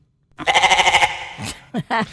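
A goat-like bleat stands in for a streaming service's intro sting: a loud, wavering, nasal cry pulsing quickly for under a second, followed by a few shorter bleating bursts close to the listener.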